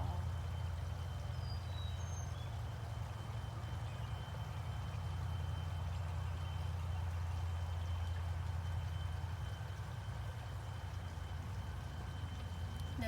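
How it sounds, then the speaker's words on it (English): Steady, even rush of flowing water from a waterfall with a soft, continuous low roar and faint dripping texture, constant and unbroken throughout, calm and moderately distant. "Listening to the water as it drips and falls in the waterfall."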